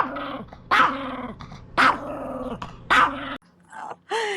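A small RV guard dog growling and barking, three drawn-out growl-barks in a steady rhythm followed by a shorter yelp and another bark, close and loud.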